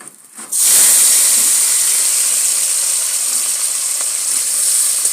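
Tomatoes dropped into hot oil with tempering spices and dried chillies for a bata fish curry, setting off an abrupt, loud, close hiss that holds steady and gradually eases.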